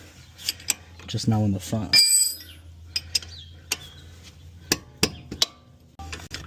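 A hand ratchet working on 22 mm brake caliper bolts during an Akebono big brake kit install on an Infiniti or Nissan, heard as sharp metallic clicks and knocks scattered through the stretch, with a brief ringing rattle, under occasional talk.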